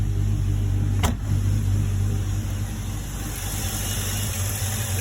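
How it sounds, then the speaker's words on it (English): A Vortec engine idles in a 1987 Toyota FJ60 with a smooth, steady low rumble and hum, and a single brief click or knock near the start. "So, engine's running nice and smooth."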